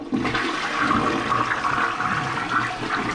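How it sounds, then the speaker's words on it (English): A toilet flushes liquid away with a loud, close rush of swirling water that holds steady for a few seconds. "it feels more natural to put this amount of liquid down the toilet"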